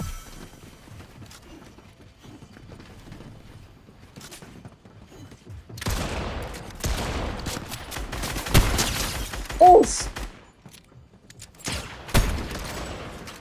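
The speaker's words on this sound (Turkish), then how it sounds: "Ay yukarıdan sıkıyorlar." Gunfire rings out in a video game, with sharp shots fired from above coming in clustered bursts after a quiet start, mostly loud and near, with a few louder cracks toward the end.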